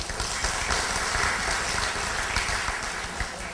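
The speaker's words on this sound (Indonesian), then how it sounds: "Tepuk tangan." Applause from a group of students at a ceremony, a steady, noisy patter of clapping that stays fairly even and moderately loud throughout.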